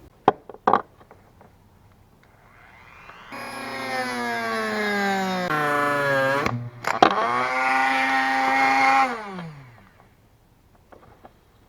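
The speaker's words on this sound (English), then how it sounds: "So I'm going to get my Dremel" A Dremel rotary tool cuts the edges of a heavy battery cable during a 1994 Jeep YJ install, spinning up to a high whine, dropping in pitch as it bites, briefly stopping, then cutting again before winding down, with clicks at the start.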